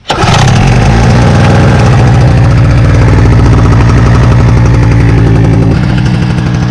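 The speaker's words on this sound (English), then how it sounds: "Of course, it's 2-stroke, so really smoky. Let that warm up a bit." A two-stroke engine on a tailgater runs loud and close, a steady rapid putter as it warms up after starting, with no talk over it.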